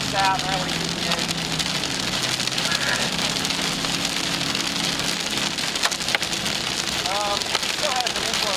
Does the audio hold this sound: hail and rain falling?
yes